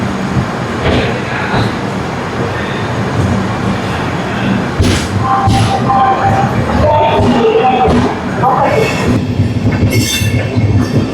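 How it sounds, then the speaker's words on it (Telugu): The Garib Rath Express rolls into Visakhapatnam station with a loud, steady rumble of wheels on rail, broken by metallic squeals and clatter from the cars as it passes close by. "స్టేషన్లోకి గరీబ్ రథ్ ఎక్స్ప్రెస్ వెళ్తుంది"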